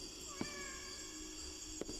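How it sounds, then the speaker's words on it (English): A cat meows at an amusement park: two short, faint meows about a second and a half apart, over a steady high background hum. "But see, he's meowing."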